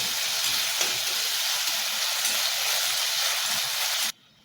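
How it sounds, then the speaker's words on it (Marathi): Finely chopped medium tomatoes fry in a pan until soft, giving a loud, steady broadband sizzle and hiss that runs unbroken for about four seconds and then cuts off abruptly. "दोन मीडियम आकाराचे टोमॅटो बारीक कट करून त्याला पण फ्राय करून घ्यायचे, सॉफ्ट होईपर्यंत फ्राय करायचे"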